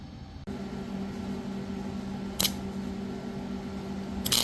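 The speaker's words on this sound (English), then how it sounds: "I'm just gonna get this tack welded on there." Tack welding a thin 1/8-inch metal piece for a demon skull flail produces a steady electrical hum with two short, sharp bursts of crackle, fairly close, with no talking.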